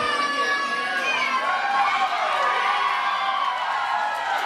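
A crowd at an independent wrestling show cheers and shouts continuously, a dense wash of raised voices at steady loudness throughout.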